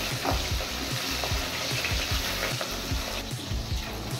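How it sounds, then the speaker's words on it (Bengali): Fish fry in hot oil in a pan, a loud, continuous close sizzle with crackling spits and pops throughout, no voices. "মাছগুলো ফ্রাই হতে হতে ততক্ষণে আমি সর্ষে একটু গুঁড়ো করে নেব।"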